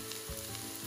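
Garlic sizzles briefly in a Cookeo multicooker with lentils and pepper paste, giving a steady close frying hiss with a couple of soft low knocks.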